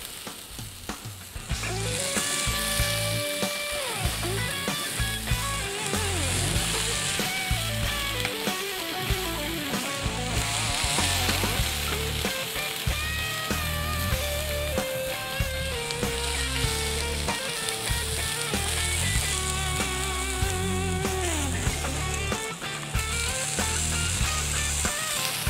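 Beer brats sizzle and fry loudly in a pan on a grill while browning, a dense continuous crackle with occasional scraping stir sounds, steady throughout and close up, no voices.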